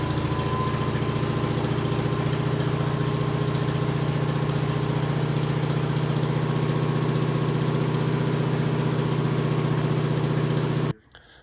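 Sears SS16 garden tractor engine idling steadily and loudly up close for about eleven seconds, a constant low droning rumble with no change in speed, cutting off abruptly right at the end.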